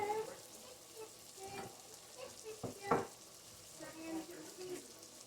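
Beef browns in a pan for stew, a soft, faint sizzle with clatters of stirring and a few sharp knocks of a utensil against the pan, over low background noise.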